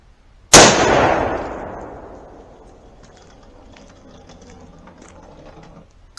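A .308 (7.62) rifle fired from about three yards gives one sharp, very loud report that rings out and fades slowly over several seconds.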